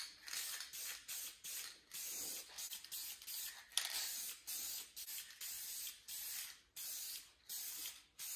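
Short hissing bursts of VHT Nite Shades tint spray-painted onto a Duramax third brake light, about a dozen quick, close sprays with brief gaps between them, accompanied by faint nozzle clicks.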